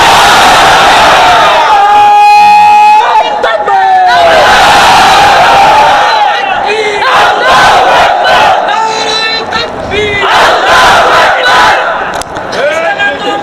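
Crowd at a Bangladeshi political rally chanting a religious slogan in unison, loud massed shouts rising and falling in several bursts, with a leader's amplified voice calling between them.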